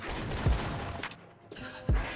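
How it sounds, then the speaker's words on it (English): Robo-Ky's overheat explosion in the fighting game Guilty Gear +R: two sharp, loud low booms with bright crackling bursts, one near the start and one near the end, separated by quieter game noise. "You can actually slash back your own overheat explosion."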